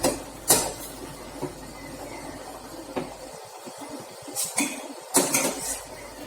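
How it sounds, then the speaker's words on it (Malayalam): A spoon scrapes and clinks against a pot as hibiscus petals are stirred in, leaving a few soft scattered knocks over a quiet background. "ഇതിട്ട് കൊടുത്തിട്ട് നമ്മളത് നന്നായി ഒന്ന് ഇളക്കി കൊടുക്കാം"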